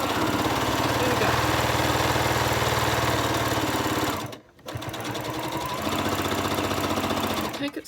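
A sewing machine stitching binding onto a jelly roll race quilt, a loud, steady rapid whirring hum that stops briefly midway, then starts again and runs on.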